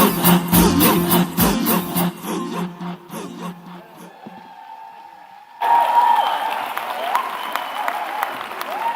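At the Day 4 closing ceremony of GDF '26, sung music and rhythmic beats end and fall to near silence, then a broad burst of crowd applause and cheering rises for the performers and carries on to the end.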